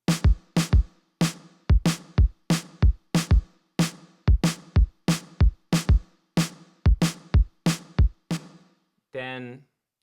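Drum-machine kick and snare from an untuned drum kit with reverb, alternating in a steady beat of about a dozen hits, each snare trailing a short wash of reverb, loud and alone; a brief voice follows at the end.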